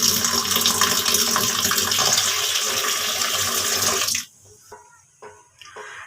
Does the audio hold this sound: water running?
yes